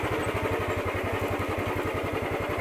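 A motorcycle engine thumps in a fast, even beat while riding near Rani Jheel lake in Ranikhet, Uttarakhand, steady and moderately loud with faint wind and no talking.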